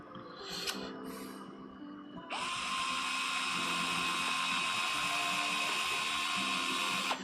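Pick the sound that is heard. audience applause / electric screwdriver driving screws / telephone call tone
electric screwdriver driving screws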